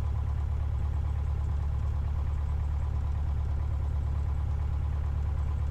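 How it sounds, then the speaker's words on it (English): A small airplane engine idles roughly on a very cold day during pre-flight run-up checks, giving a steady, loud, low droning rumble that continues throughout with no talk. "Runs really rough with that on, but as long as the engine doesn't quit."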